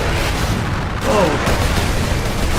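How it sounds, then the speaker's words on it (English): Missiles explode in the video game Space Marine, a loud, dense wash of booming blasts and rumbling debris that continues without a break, with no distinct gap between impacts. "Those missiles really hurt."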